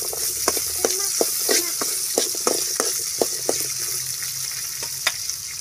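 Curry leaves crackle and sizzle in hot oil while being fried for a dried stingray fish curry, a steady hiss punctuated by sharp popping bursts close by, with no talking.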